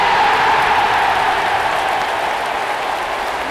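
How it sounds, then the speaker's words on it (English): Applause added as a sound effect: a steady, full wash of many hands clapping at once. It stays loud and even throughout, with no voices on top. "I know I edited in some applause for that."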